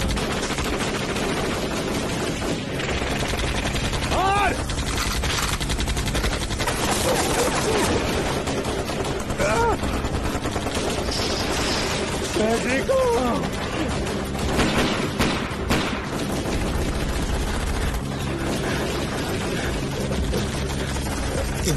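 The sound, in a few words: gunfire shot from a helicopter in a TV drama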